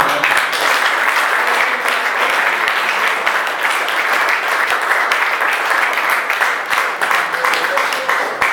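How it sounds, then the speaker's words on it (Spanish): Loud, energetic congregation applause during a Spanish-language church service, a dense continuous roar of many hands clapping with sharper individual claps popping through, and voices mixed in. "Denle un aplauso al Señor."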